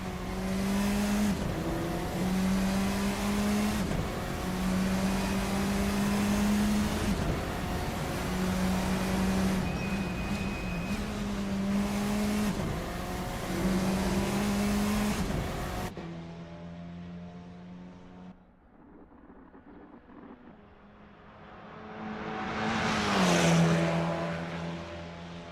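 Formula 4 race cars lapping Bathurst in the Assetto Corsa racing game, one engine howling loudly and steadily with brief dips at gear shifts, then a quieter stretch before another car swells past.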